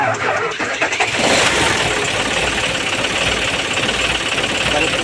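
A car engine cranks briefly and catches, then settles into a steady, loud idle.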